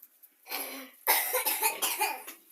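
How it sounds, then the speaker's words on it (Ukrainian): Two bursts of harsh, raspy coughing from sick Hampshire piglets sound close up, a short one followed by a longer hacking fit, with silence in between. "Заболіли, кашляють трошки,"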